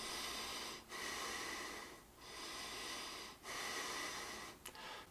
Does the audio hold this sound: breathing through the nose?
yes